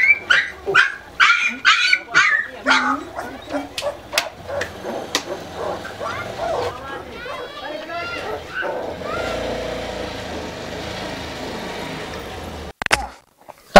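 Puppies for sale let out a rapid run of sharp, high yips and barks up close, then trail off into thin whimpers and whines, with people talking around them.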